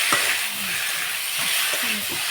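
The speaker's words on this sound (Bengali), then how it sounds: "এসবটা ভালোভাবে ভেজে নেব" Spices for a vegetarian jackfruit curry fry in a pan with a steady broadband hiss, a few soft stirring scrapes and taps over about two seconds, close and moderate.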